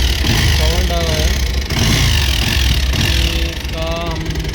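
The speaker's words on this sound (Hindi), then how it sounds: "इसमें शायद यहाँ पे टाइमिंग चेन का आ रहा है या फिर इसका क्लच जो सीजर गियर आता है उसका साउंड आ रहा है।" A Bajaj Pulsar 220 motorcycle idles after an engine rebuild, its steady mechanical rattle suspected to come from the timing chain or clutch gear. The noise sits close and loud under someone talking over it.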